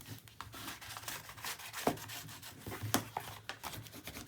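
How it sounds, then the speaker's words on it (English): Paper being burnished during a mini album build, a soft close rubbing and scraping in uneven strokes with a few sharper crinkles and taps, no voices. "Give ourselves a good old burnish."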